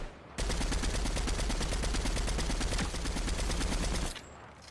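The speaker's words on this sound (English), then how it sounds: "Got some gunfire all the way over there." Sustained rapid automatic gunfire in Fortnite, a dense rattling burst lasting several seconds before cutting off, sounding somewhat distant with no talking.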